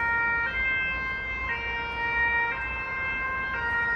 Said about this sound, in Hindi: यहाँ पे एम्बुलेंस और पुलिस वाले सारे आपको नॉर्मली सुनने को मिलेंगे